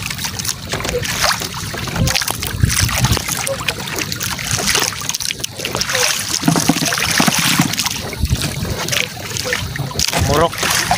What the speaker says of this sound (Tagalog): Malaki yung alon ngayon.